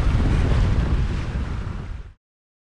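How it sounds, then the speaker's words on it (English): At sea aboard a sailboat in the Caribbean, strong wind buffets the microphone with a loud, dense roar mixed with rushing water, then it cuts off abruptly. "you have the perfect breeze every single time and you can fly"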